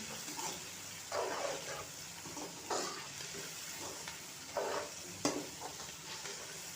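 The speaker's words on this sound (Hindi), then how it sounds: "थोड़ी देर तक मटरों को भूनते रहें।" Peas roast in a pan for a jungle pulao, with a quiet, low frying sizzle broken by about five distinct scraping stirs of a spoon at irregular intervals, close by and with no talking.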